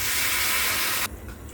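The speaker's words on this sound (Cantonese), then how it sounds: "而家就落埋啲滾水落去啦" A strong, steady hiss of boiling water pours into a pot for about a second, then cuts off abruptly, leaving a quiet steamy background; the water goes into a mutton brisket casserole with bean curd sticks and fish maw.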